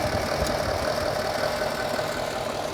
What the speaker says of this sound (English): You can hear the pump working.